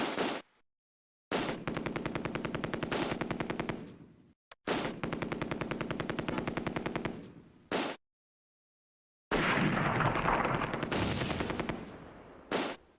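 Rifle squads and machine guns fire in the WWII strategy game Close Combat: A Bridge Too Far at Nijmegen bridge, three long loud rapid-fire bursts separated by sudden silences, the last burst harsher and denser.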